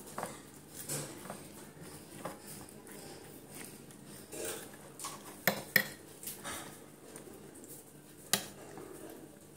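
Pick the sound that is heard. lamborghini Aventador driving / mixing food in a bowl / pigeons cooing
mixing food in a bowl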